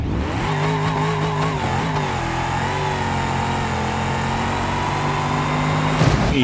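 A car engine in a BeamNG.drive demolition derby holds a loud, steady drone with shifting harmonic pitch. It runs continuously close up, with a brief clatter near the end and no talk over it.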